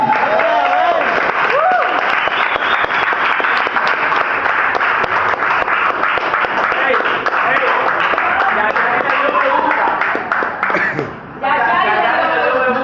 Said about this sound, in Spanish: denle un aplauso a los que nos están escuchando